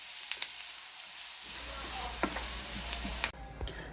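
Garlic and onion sizzle in melted butter in a pan, a steady close hiss that jumps louder midway as the onion goes in, with a few spoon clinks and scrapes on top.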